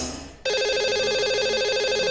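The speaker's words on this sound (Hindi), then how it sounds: "लगाते हैं इन्हें कॉल और करते हैं इनसे बात।" A telephone ringback tone sounds as a call is placed to a radio show caller, a steady, loud electronic ring that starts abruptly after a short faint lead-in, with no talking.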